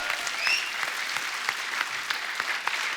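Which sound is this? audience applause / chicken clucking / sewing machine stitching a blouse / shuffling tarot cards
audience applause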